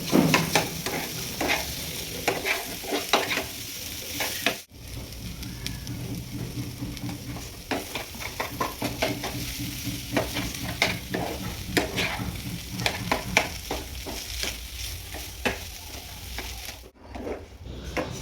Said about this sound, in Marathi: त्याला व्यवस्थित फ्राय करून घेतलं, आणि वरतून थोडंसं मीठ ॲड केलं चवीनुसार, आणि त्याला स्मॅश करून घेतलं उलटण्यानं